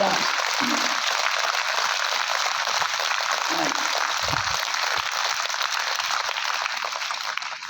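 A group claps hands together in a steady, dense wash of clapping that lasts the whole time, at a meditation outreach session in Devanakonda, Kurnool district.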